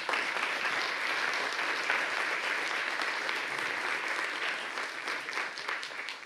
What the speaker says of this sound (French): on peut applaudir Maud Lerest